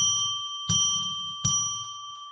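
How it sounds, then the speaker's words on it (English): A small bell is struck three times, evenly spaced, each clear ringing tone sustaining and slowly fading into the next strike, with no talking. "let's ring a bell 3 times to declare sacred space"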